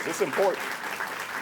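Applause rises from the audience at a ribbon cutting for an early childhood education campus, a brief clatter of clapping under a speaker's voice.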